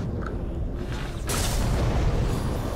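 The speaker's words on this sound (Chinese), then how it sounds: "爆炸好用。" An explosion in the video game Middle-earth: Shadow of War, a low rumbling boom that swells midway and lingers as a broad, heavy roar.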